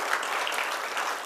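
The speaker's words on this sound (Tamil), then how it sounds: "நமக்கு நாமே கரகோஷம் செய்து மகிழ்ச்சியை வெளிப்படுத்தி" An audience claps together in a dense, steady burst of applause, even and close throughout.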